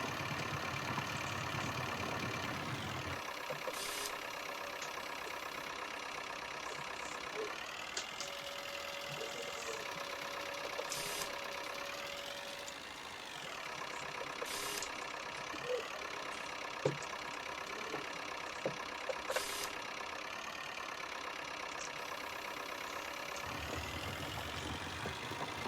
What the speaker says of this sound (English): This will probably be the ploughing tractor for the near future.